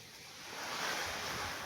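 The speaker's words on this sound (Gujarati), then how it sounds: "પવન સાથે વરસાદ આવ્યો છે." Rain driven by strong wind in a Gujarat village, a steady broad rushing roar that swells slightly over a couple of seconds, with no talk.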